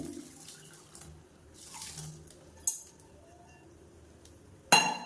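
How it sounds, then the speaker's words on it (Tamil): Filtered jaggery syrup poured into cooking wheat porridge, kothumai kanji, makes a soft, faint trickle with quiet stirring and a couple of sharp utensil clinks nearby. "இந்த ஸ்டேஜில் வெள்ளம் வந்து நம்ம ரெடி பண்ணி வச்சுருக்காத சேர்த்துக்கலாம் வடிகட்டிட்டு"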